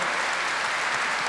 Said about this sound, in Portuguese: Eu queria que você aplaudisse